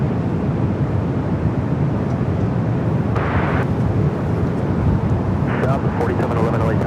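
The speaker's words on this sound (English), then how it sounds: "Southwest is going to make that bank left-hand turn as it takes off." A Southwest Airlines Boeing 737 MAX 8 takes off at LAX in gusty winds, a loud, steady broadband jet roar filling the whole stretch, with a couple of brief hissy surges partway through.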